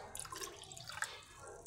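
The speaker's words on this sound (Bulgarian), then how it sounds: "Слагаме още вода." Water poured into a container, a soft continuous trickle with faint dripping and splashing, close by and quiet, no voices.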